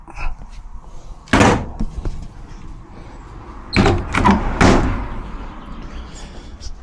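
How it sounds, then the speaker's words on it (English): A few solid thuds of a washing machine door being shut: one knock, then two or three close knocks a few seconds later, near and fairly loud. "Door shut."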